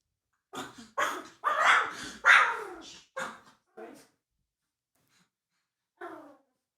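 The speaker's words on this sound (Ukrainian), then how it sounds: "він ж завжди гавкав на цю грушу" A dog barks in a quick run of sharp, loud yelps, then pauses and gives one more short bark after a silence.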